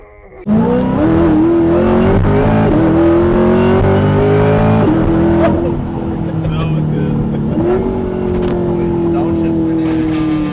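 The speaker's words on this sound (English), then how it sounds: "And that supercharger whine?" A supercharged C8 Corvette engine roars loudly and steadily, a high supercharger whine rising over it as it accelerates through several gear changes.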